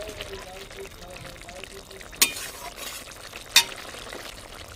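Fried mouralla fish and slit green chilies go into a simmering curry in a pan, giving a steady bubbling sizzle with two sharp clinks of a utensil against the pan.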